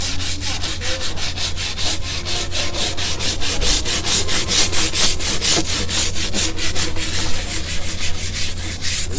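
Brush scrubbed with Simple Green across the back of a metal Clamper plaque, a loud, close, steady back-and-forth rasping rhythm of repeated strokes.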